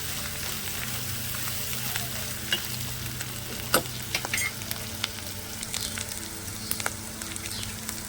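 Green chili paste fries in oil, giving a soft, even sizzle with scattered light taps and scrapes of stirring, fairly quiet and close.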